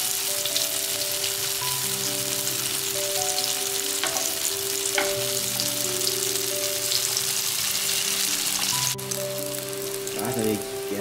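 Cut chunks of soft tofu fry in hot oil in a pan, giving a loud continuous sizzle and crackle with a few clinks. Music plays underneath throughout.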